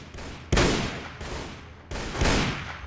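Two sharp musket volleys ring out in a Mount and Blade Warband battle, each a loud crackling burst that decays quickly, spaced over a second apart with no talk.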